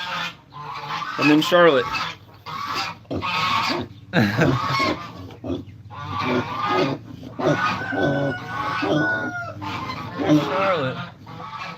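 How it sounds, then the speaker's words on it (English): Farmyard geese honk loudly and repeatedly up close, with chickens clucking around them, while a person speaks briefly over the din. "So it's just the geese."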